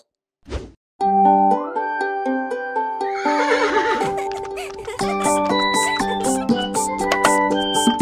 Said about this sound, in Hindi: घोड़ा गाड़ी की सवारी